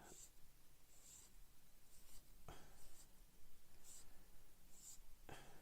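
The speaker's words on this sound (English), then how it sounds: "That's easily sorted out with a file. Nice steady strokes on the cut and face" A hand file drawn across the seam line of a plastic scale model kit, a Revell Lockheed PV-1 Ventura, giving soft, steady rasping strokes in a quiet room with a few faint ticks between them.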